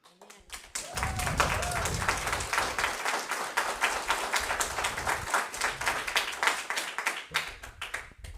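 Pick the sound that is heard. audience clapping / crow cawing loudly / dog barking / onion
audience clapping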